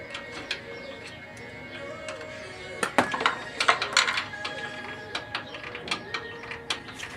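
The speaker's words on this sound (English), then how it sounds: "And then just lower the jack, the little bottle jack." A small bottle jack is lowered beside a 1992 Toyota 4Runner during upper ball joint work, giving a run of clicking, ratcheting metallic ticks that cluster into a louder burst in the middle, with no talking.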